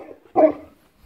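A single short, sharp dog bark aimed at the sun, close and clear in an otherwise quiet moment.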